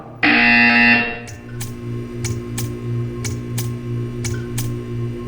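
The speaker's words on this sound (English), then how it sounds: "You will hear a buzzer." In the video game Portal 2, a loud, harsh electronic buzzer blares for about a second, followed by a faint hum and a series of soft, evenly spaced ticks.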